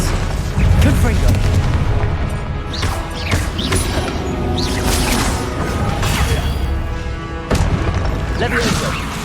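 Confringo explosion spell in the video game Hogwarts Legacy, a dense barrage of booming blasts, crashes and whooshes from combat, with a voice shouting among the impacts.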